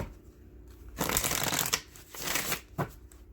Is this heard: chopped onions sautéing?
no